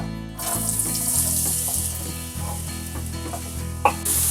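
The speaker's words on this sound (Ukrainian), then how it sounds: "у цю олійку, де смажилося м'ясо, я додаю цибулю та морку." Steady sizzling of onion and carrot frying in hot oil left from frying meat, close and continuous, with occasional stirring scrapes and a brief clink near the end.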